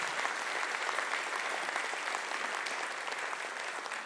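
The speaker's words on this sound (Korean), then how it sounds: "박수로 격려해 주시기 바랍니다." Sustained applause from a church congregation during Sunday worship, honoring the singers after praise music; dense, steady clapping from many hands fills the room at an even, moderate level without a break.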